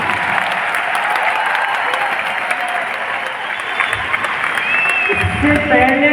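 Steady, dense applause from a large audience at an anniversary gathering, continuous clapping throughout with murmuring voices underneath.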